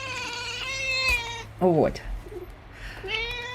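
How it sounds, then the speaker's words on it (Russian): A pet cat named Shanya gives a short, rising-then-falling meow close by, with a voice speaking before and after over a low steady hum. "Это моя кошка Шаня."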